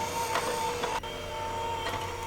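Electric mixer running in cranberry coffee cake batter, a steady whirring hum with a sustained mid-pitched whine, close and even, with a brief dip partway through.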